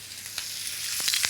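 Diced vegetables frying in a pan with olive oil, a faint steady sizzle with a few soft crackles and pops near the end.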